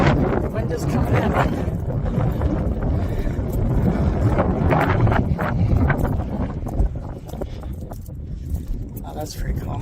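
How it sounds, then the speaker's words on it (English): Wind gusting across open sand dunes, buffeting the microphone as a steady, loud low rumble that holds for the whole stretch and eases slightly near the end. "The wind is coming in."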